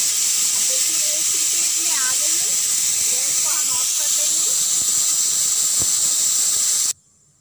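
A pressure cooker on a high gas flame whistles: a loud, steady high-pitched hiss with squealing whistle tones runs nearly continuously, then cuts off abruptly near the end.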